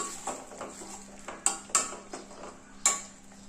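Ginger garlic paste stirred and sautéed in a pan for a drumstick egg curry: a spoon scrapes and clinks against the metal a few times, with a couple of sharper knocks over a faint, steady background hum.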